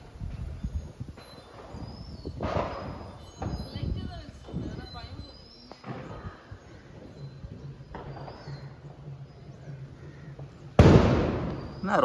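Diwali firecrackers go off at home, with several scattered pops and fizzing bursts at close to mid range and one sharp, loud bang near the end, while family members talk throughout.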